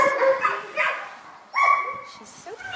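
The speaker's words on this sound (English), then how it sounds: "She's one of the dogs that came in as part of a group known as the 12 Huskies of Christmas." A rescued adult husky at an animal rescue centre barks and yips in short, loud bursts, with a few whimpering notes, close by, heard over and between people talking.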